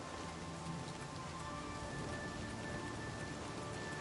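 Steady rain in the video game Oblivion Remastered, a continuous even hiss of drops falling on surfaces, soft and unbroken with no voices or thunder.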